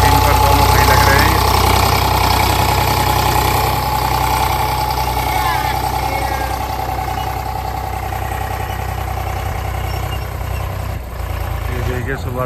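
A tractor engine idling and running in a field in the morning, a loud steady mechanical drone with a knocking hum, continuous throughout, easing slightly near the end.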